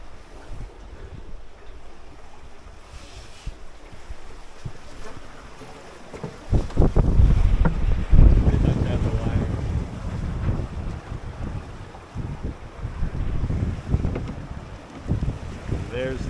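A 21-foot pocket cruiser sails almost fully reefed in about 15 knots of wind, with steady wind buffeting the microphone and water rushing along the hull, surging louder midway, while voices speak faintly at times.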